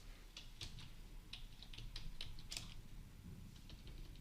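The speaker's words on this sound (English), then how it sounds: "What are you typing?" Quiet clicking of keys on a computer keyboard in irregular, quick bursts, close and faint, with no one speaking.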